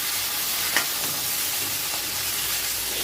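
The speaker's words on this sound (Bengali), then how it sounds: "মাছের মাথাটা বেশ ভালো করেই ভাজা হয়ে গেছে।" A fish head frying in a pan, a constant close, bright hissing sizzle with a faint knock or two, no voices.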